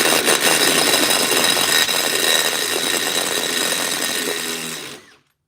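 A power tool, likely an impact driver with sockets, runs on the rear bumper bolts of a lifted 1997 Ford F250 4x4. It makes a loud, steady, rattling whine close by for about five seconds, then cuts off abruptly.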